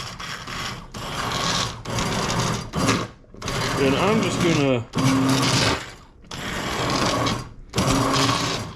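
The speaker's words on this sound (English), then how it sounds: "immersion blender." An Amazon Basics immersion blender whirs in short bursts, stopping and restarting several times, with a nearby voice talking between and over the pulses while pasta sauce is blended.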